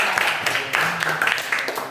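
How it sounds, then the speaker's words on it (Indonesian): A classroom of students applauding together during a lesson, steady dense clapping with a few voices mixed in, lasting about two seconds at moderate loudness. "Oke, tepuk tangan untuk semua."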